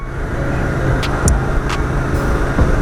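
A steady video game car engine hums loudly and continuously, with a few faint clicks and brief higher-pitched blips on top.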